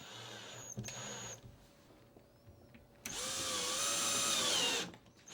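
A power drill drives screws to fasten cleats or backer boards along the edges of a wall opening. A short whir is followed by a longer, loud, steady whine that rises and falls in pitch, recorded close up.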